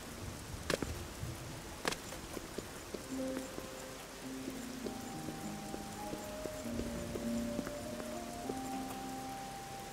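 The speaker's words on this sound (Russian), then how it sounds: "И дождь. Этот шум тоже уйдет пока." Ambient rain in the video game Oblivion with the Era of Change mod, a soft continuous patter under a quiet musical tone and a couple of sharp clicks.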